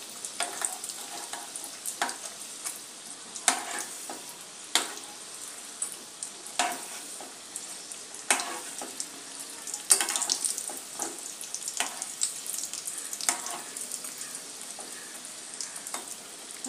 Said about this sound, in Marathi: अशा प्रकारे तळून घेऊयात।